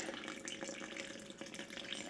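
Water poured steadily into a sourdough starter in a kitchen, a soft continuous trickling and splashing stream, close and fairly quiet, with no voices.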